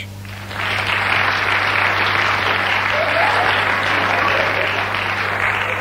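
A studio audience on a 1990s Portuguese TV comedy show breaks into loud, sustained applause that swells quickly and holds steady throughout.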